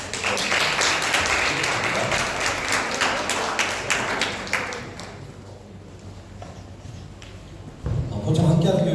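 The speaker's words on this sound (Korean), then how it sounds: "우리 큰 박수로" A church congregation at a Sunday service claps warmly to greet a visiting pastor. The applause is broad and steady for several seconds, then thins and fades into low room noise before a louder sound returns at the end.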